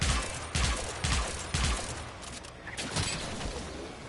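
Video game gunfire in a shooter, a rapid burst of heavy close shots in quick rhythm that thins into scattered firing and impacts.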